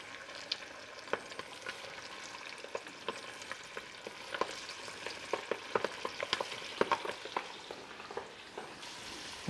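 Small salted sweetbreads fry in a pan with a steady close sizzle, scattered crackles and pops, and occasional stirring clicks, without any talking.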